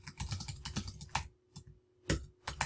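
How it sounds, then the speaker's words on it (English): Fingers typing on a computer keyboard close by, quick clusters of soft key clicks broken by short pauses, with no talk over it. "I'm going to type here"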